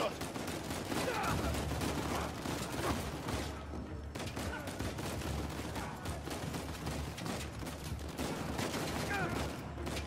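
Gunfire in the video game Uncharted 4: bursts of shots crackle in near-continuous volleys, loud and dense, with no clear pause across the span.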